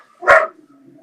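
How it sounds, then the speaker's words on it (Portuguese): A single loud, close bark from a female dog, sharp and short, followed by near silence. "E às vezes a minha cachorra vai participar também"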